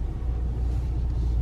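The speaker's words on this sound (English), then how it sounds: "So we're going to drive straight forward to calibrate." A Ford F-150 pickup drives slowly straight ahead, heard from inside as a steady low engine and road rumble without any talk.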